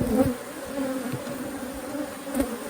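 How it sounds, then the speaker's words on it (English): Honeybees buzzing and roaring in an opened hive during a summer inspection with frames of brood, a dense continuous drone heard close up and steady throughout. "You can just hear them roaring and buzzing."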